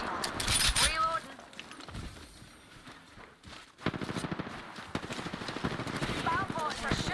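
Rapid automatic gunfire in Apex Legends arrives in dense bursts, mixed with footsteps and game effects, while players talk over it.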